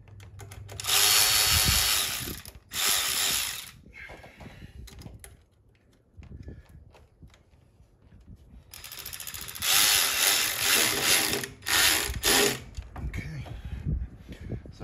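Ratchet wrench tightening the bolts on a Ford 7.3 Powerstroke fuel bowl, giving bursts of rapid clicking pawl strokes in two main runs separated by a quieter pause, close and loud.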